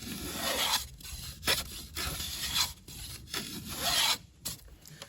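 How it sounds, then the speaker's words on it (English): Block plane shaves a cedar shingle in a series of rasping passes, each stroke a rough, breathy scrape with brief pauses between, close and clear with no talk. "we'll take the block plane and the shingle and make a few passes, making sure you're planing from top to bottom evenly"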